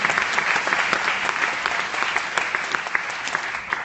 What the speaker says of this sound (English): A round of applause for Reid.